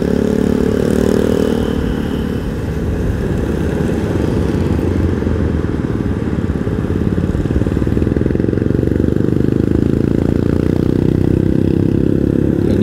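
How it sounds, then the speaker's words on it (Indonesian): Dense traffic of many motorcycles streams past on a busy road at a West Java border checkpoint during the post-holiday return rush, a loud continuous blend of mid-pitched engines droning, revving and clattering up close. "Kita bisa melihat bagaimana kepadatan arus balik dari pengendara roda 2 ya, yang ada di depan kita."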